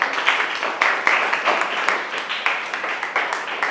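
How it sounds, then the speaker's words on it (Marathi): An audience gives steady, moderately loud clapping for a schoolgirl called on stage to receive a first-place prize at a village event, a continuous patter of many hands with slight swells. "मुलांना याच्यासाठी जोरदार टाळ्या झाल्या पाहिजेत"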